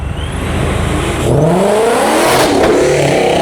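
A car engine revs hard and loud, rising in pitch with a roaring whine, then climbing again through a second surge, close by.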